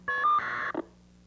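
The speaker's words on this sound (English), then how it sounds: "Oh, there's the phone." Short electronic telephone tones sound close and clear, a couple of steady beeps followed by a brief blip, then near silence with a faint low hum.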